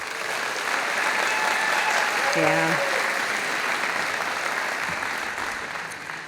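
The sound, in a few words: audience applause for Boys and Girls Club kids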